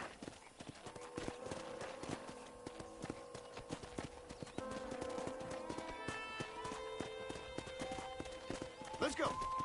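Horse hooves in Red Dead Redemption, a steady clip-clop of galloping running throughout under a voice and musical tones, with a brief whinny near the end.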